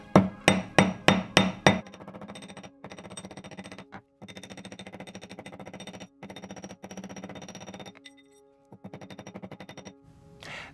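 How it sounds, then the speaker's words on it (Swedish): Sharp metallic hammer strikes on a silver ring, first a few loud evenly spaced blows, then a long run of rapid, lighter taps with brief pauses. "Så att jag slår så och drar hammaren mot mig."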